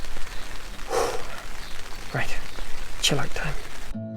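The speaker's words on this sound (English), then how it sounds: "There's something very nice about the sound of rain on a tent when you've actually got everything already up." Rain pattering on a camping tent at a Scottish campsite, a soft continuous drumming that stays under a voice as he talks over it.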